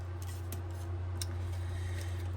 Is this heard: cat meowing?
no